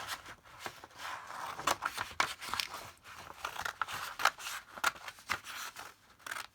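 Scissors cut out paper tickets in a quick series of crisp snips and light paper crinkles, close and fairly quiet, with no talking.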